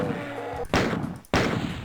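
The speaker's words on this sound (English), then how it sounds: "Let's blow this barrel." Barrel shot and exploding in the classic Doom, two sharp loud blasts about half a second apart, each with a short booming decay, no talk.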